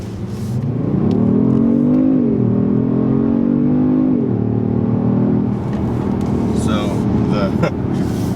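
A 2020 Kia Stinger GT2 sports sedan accelerating in sport mode, heard from the cabin as a loud, steady engine drone that rises in pitch through the gears, with a brief shift dip and faint interior clicks near the end.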